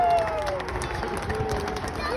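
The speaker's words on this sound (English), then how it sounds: "Give Lieutenant Ali a round of applause." An audience at a Troy fire department kitchen fire demonstration claps for a lieutenant in a short burst of scattered applause mixed with crowd murmur.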